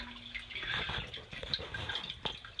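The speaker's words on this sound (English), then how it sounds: "if you can see this water here flowing isn't that good" Spring water trickles and drips steadily through a decades-old spring water system toward an outflow pipe, a soft close splashing with faint gurgles.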